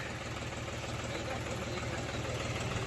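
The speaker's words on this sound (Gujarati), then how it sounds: "રેતીન ટ્રેક્ટર ભરીને આવ્યો છે આપણો" A tractor loaded with sand rumbles steadily at a village site, its engine idling loud and close with a constant low drone and no break.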